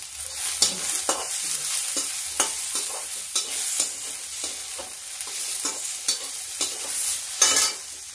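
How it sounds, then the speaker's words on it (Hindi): Onion frying in a pan for pumpkin curry makes a steady, close hiss, broken by regular scraping strokes of a spoon stirring roughly every half second. "इसको भी भून लेते हैं। कद्दू की सब्जी में प्याज बहुत अच्छा लगता है।"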